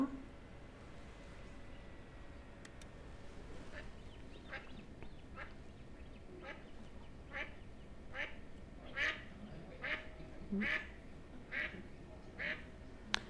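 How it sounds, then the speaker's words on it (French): A series of nasal mallard duck quacks, roughly a dozen, repeating at irregular intervals and growing louder toward the end, over steady outdoor background noise. "le canard colvert, je pense que tout le monde le connaît"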